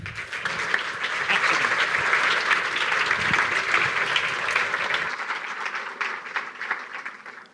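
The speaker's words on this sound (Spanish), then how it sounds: "Fuerte el aplauso, por favor." An audience at a hardware hacking talk on voltage glitching applauds steadily as the speaker steps up, a dense, sustained burst of many hands that thins and fades toward the end.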